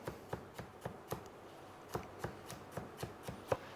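A knife chops vegetables on a cutting board one cut at a time, giving about a dozen close, crisp knocks in a fairly even rhythm, with no talking.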